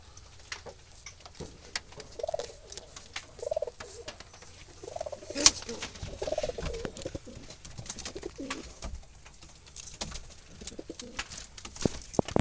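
Wild jalali pigeons coo in a coop, low muffled rolling calls coming in several short bouts amid rustling, wing flutters and scattered clicks, moderately close.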